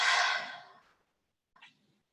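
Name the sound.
cleansing breath exhaled out through the mouth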